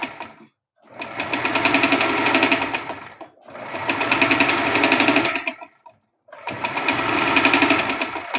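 Sewing machine stitching fabric, tacking down the hip of a thong: three loud sustained runs of rapid mechanical whirring, each a couple of seconds long, separated by short silent pauses.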